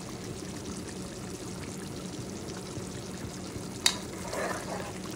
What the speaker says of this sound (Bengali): এই ফাঁকেতে আমি দিয়ে দিলাম 2 চামচ ঘি।